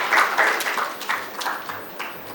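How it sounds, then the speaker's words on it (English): Conference attendees applaud a visiting speaker from Scotland, a moderately loud wave of clapping with distinct individual claps that gradually thins and fades over two seconds. "can we have a huge round of applause for coming all the way from Scotland to here."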